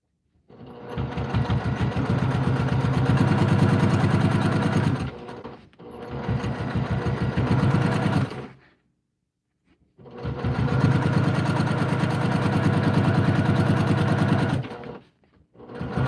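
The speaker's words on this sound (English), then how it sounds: "Now I can finish sewing that across." A sewing machine runs in long steady bursts while stitching across a fabric project bag, loud and close, pausing briefly twice between runs, with no talking heard.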